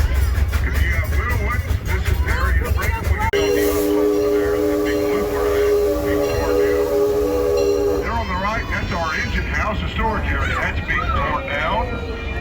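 Steam-powered Boomtown Railway train at Six Flags Over Texas sounds a long, steady whistle blast lasting several seconds over the rumble of the rails, with crowd chatter and voices around it throughout.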